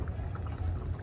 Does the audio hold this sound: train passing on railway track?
no